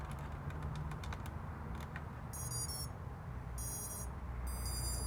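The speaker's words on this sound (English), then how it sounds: "We have to wait for the second set of beeps to go through" A brushless motor speed controller in a modded Nerf blaster gives short, high startup beeps in three bursts, with clicking handling noises earlier over a steady background hiss.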